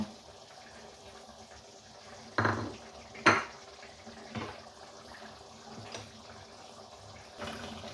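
A spoon mixes three tablespoons of yogurt with a tablespoon of Kashmiri red chili in a bowl, giving a few sharp, close clinks against the bowl and soft scraping in an otherwise quiet kitchen.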